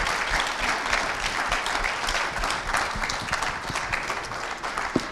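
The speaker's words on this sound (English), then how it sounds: "please, a little round of applause for the comment" An audience at a college sport management speaker series bursts into a round of applause, dense steady clapping from many hands filling the room at a fairly even level for several seconds.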